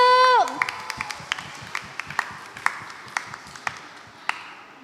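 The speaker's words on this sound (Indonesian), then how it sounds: "Beri tepuk tangan yuk." A church congregation at a Sunday school Christmas service gives sparse, scattered claps after a brief falling electronic tone, with individual hand claps sounding sharp and well spaced rather than as a full ovation.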